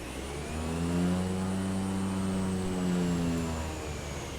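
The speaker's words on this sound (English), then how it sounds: "we're going to just spin the plane round ourselves on here and do it" A simulated airplane engine from Microsoft Flight Simulator hums steadily with a low droning tone that swells slightly and eases, heard alone without talk.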